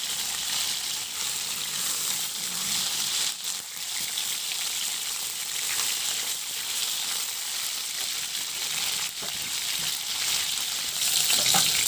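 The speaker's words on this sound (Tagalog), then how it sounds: "Antayin lang din na mag-brown yung kabilang side at saka natin baliktarin." Food sizzles steadily in a frying pan as it browns, a dense, close, continuous crackle that holds level from start to end with no talking.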